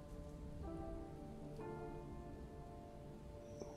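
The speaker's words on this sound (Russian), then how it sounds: "Пошёл дождик, вроде бы снег." Rain falling in the survival horror video game Expedition Zero, a steady soft patter with faint tonal game sounds underneath.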